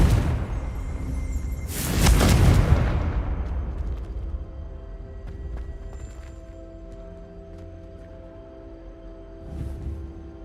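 A Confringo spell blast in the Hogwarts Legacy game: one loud, booming burst near the start that fades into a steady low ambient hum, with a softer thump near the end.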